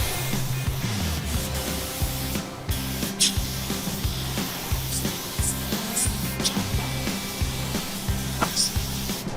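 A spray gun applies thick epoxy to parts from a Chevrolet Blazer, producing a loud continuous hissing spray with repeated pulsing trigger bursts and a steady compressor-like rumble, up close and without talk.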